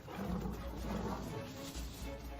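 Lions roar while attacking buffalo in the wild, a deep, loud, rumbling roar that runs steadily through a short stretch with no voices over it.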